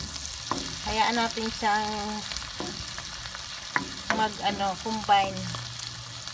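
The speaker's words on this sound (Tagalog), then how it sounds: "Ngayon isama na natin yung kanyang pork belly sa pagigisa." Pork belly sautéing with shrimp paste in a pan in a backyard, a light sizzle and stirring scrapes under short stretches of speech.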